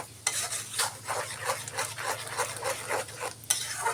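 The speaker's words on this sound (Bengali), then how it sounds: "এটা খুব ভালো করে কষিয়ে এমন একটা মজাদার মশলা তৈরি করব" A spoon stirs spice paste with chili powder frying in a pan, making rhythmic scraping strokes about three times a second over a gentle sizzle and a low, steady hum.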